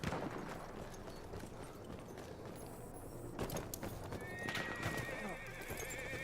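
A cavalry horse in the video game Battlefield 1 beta, hooves clip-clopping under battlefield ambience with a whinny near the end, moderately close.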